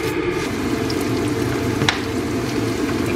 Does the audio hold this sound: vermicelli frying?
yes